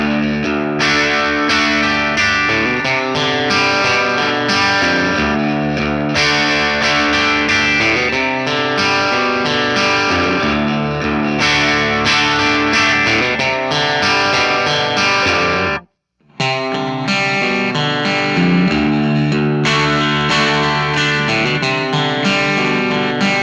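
An electric guitar played through a Vox AC15 amp at low bedroom volume, distorted chords and riffs ringing continuously with one brief pause near the end, no talking.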